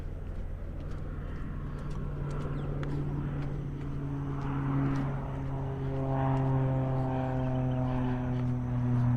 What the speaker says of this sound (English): That aeroplane again.